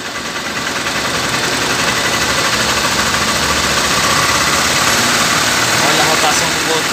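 Honda CG 150 Titan motorcycle engine revving up during a battery charging test, a loud steady mechanical drone that holds and swells slightly throughout, with someone speaking over it.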